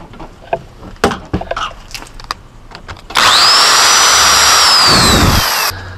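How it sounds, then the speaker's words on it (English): A drill with a 3/16 bit bores out a clamped aluminum pop rivet: a loud, steady high-pitched whine of about two and a half seconds, with a rising then falling tone, follows a few scattered knocks and handling clatter. "Okay, so I just removed a rivet using a drill."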